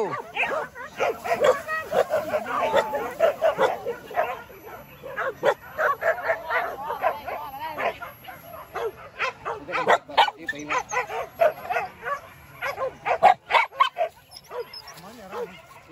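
Several dogs bark, yip and whimper in quick irregular bursts, fairly close, mixed with people talking.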